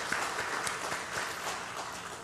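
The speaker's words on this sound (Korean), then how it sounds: "우리 천국 백성끼리 박수 한번 하겠습니다." Church congregation at a Wednesday prayer service clapping together, a steady, fairly soft round of applause filling the room without talk.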